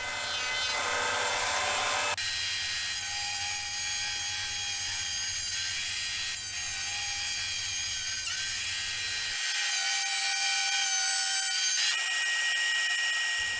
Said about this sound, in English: set about passing a planer over the slab a few times just to get rid of the bandsaw marks